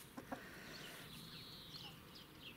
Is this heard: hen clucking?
yes